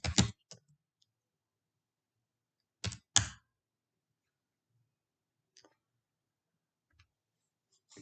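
Keys clicking on a computer keyboard as a password is entered, a quick burst of taps at the start and another around three seconds in, with a few faint isolated clicks after; no talking.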